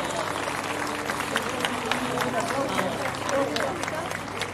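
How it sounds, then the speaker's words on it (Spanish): Applause from the audience at a closing ceremony for senior adults' workshops at a museum, a steady dense wash of clapping over several seconds with voices mixed in underneath. "Fuerte el aplauso para todos"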